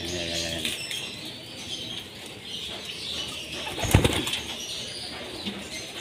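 Pigeons flap their wings after drinking water, soft wingbeats and fluttering nearby with faint cooing, and one louder burst of flapping midway.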